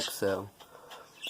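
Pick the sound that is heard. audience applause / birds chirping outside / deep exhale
birds chirping outside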